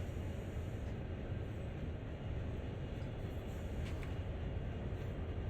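Locomotive running with a little independent brake applied in the game Train Sim World 2020: a continuous, even rumble of rolling wheels and engine, steady and fairly loud throughout, with no voices.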